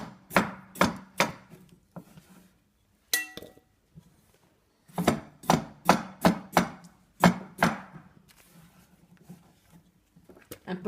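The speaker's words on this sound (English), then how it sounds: "Then you start cutting." Knife chopping vegetables into small cubes for a salad on a board, bursts of sharp, rapid close taps in quick runs separated by short pauses, no talking.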